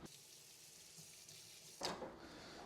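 A kitchen tap runs as a knife is rinsed under it before vegetable prep for an Easter brunch, a steady close water hiss with a louder splash near the end as the blade meets the stream.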